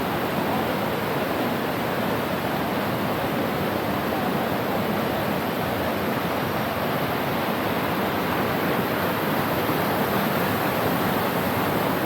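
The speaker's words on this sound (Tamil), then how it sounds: "அதை பாருங்களேன், அந்த ஃபால்ஸ் வேறு தெரியுதா உங்களுக்கு?" Steady, loud roar of a waterfall at a private falls near Munnar, a continuous broadband rush of falling water with no pauses or voices across the whole stretch.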